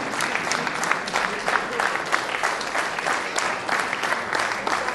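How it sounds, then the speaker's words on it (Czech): Theatre audience at a children's puppet play in Brno-Bosonohy claps steadily, a dense, moderately loud wash of many hands with faint rhythmic accents and no talk. "my vám děkujeme za váš potlesk"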